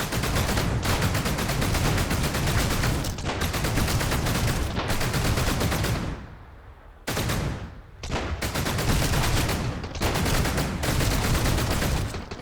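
Ship guns fire in rapid sustained bursts during naval combat in the game Sunkenland, dense machine-gun rattling that is loud and close, breaking off briefly twice before resuming, with no talking.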